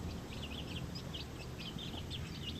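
Seven newly hatched native chicken chicks peep faintly, a string of thin, high chirps repeating rapidly against a steady background hiss.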